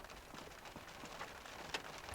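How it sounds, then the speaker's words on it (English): Rain falling on a parked car with its engine off, a steady patter of drops tapping the roof and body throughout, moderately close and with no talking. "and it's just started raining"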